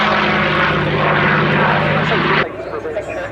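P-47 Thunderbolt warbird flying at an air display, a loud steady radial-engine propeller drone passing close, then dropping away sharply to a fainter rumble near the end.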